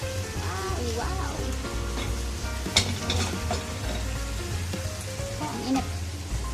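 Paksiw with eggplant and okra sizzles and crackles steadily in a hot pan as it boils, with occasional stirring scrapes and brief utensil clinks.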